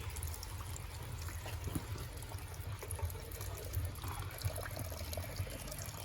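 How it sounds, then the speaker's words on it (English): A dishwasher, fed from a garden hose, drains water on a quick rinse cycle with a faint, steady gurgling trickle and low pump hum running continuously. "Now it's on its drain cycle. We just put it on a quick rinse cycle, and that's draining."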